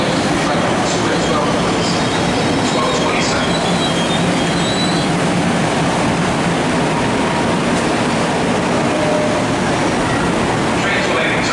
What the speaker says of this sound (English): Darn, that's a long train. Must be 10 cars today.